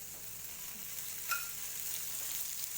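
A sprout chilla fries in a little oil in a pan, making a soft, even sizzle with one brief clink partway through and no speech.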